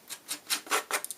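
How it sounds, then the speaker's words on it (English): Side edge of a pair of scissors scraped along the edges of a paper panel for stamping with Gelatos, giving a series of five or six short, dry rasping strokes, fairly close and quiet, with no talk. "Just take the side edge of your scissors and that'll give you that nice"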